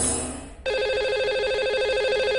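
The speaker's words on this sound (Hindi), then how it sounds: "लगाते हैं आज के लकी कॉलर को नंबर।" A telephone rings on a call-in radio show as the line is dialed to reach the day's lucky caller, a steady electronic ringing tone that starts abruptly after a short burst of noise and continues loud and clear.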